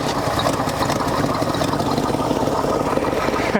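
A 1971 Ford Mustang engine, abandoned for 25 years, runs at a steady, smooth idle close by, a continuous low rumble with even firing throughout and no talk over it.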